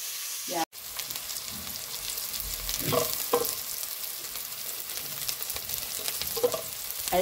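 Onions frying gently in a pan with a steady broadband sizzle, broken by a sharp knock near the start and a few louder stirring scrapes, close and continuous with no talking.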